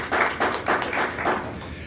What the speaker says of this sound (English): How about a little round of applause?